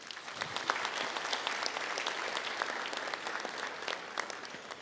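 Sustained applause from an audience at a national innovator hall of fame award ceremony, a thick, even wash of many hands clapping at moderate distance with no pauses.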